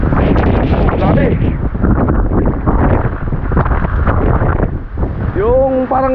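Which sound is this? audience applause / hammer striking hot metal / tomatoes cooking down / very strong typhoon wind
very strong typhoon wind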